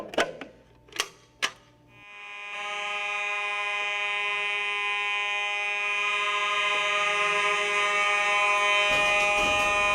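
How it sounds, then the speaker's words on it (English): A school fire alarm blares continuously and loudly after a few sharp knocks at the start, a steady harsh electronic tone holding for several seconds, with a faint rattling at the end. "the fire alarm has now gone off"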